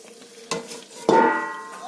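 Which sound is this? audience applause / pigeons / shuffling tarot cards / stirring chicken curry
stirring chicken curry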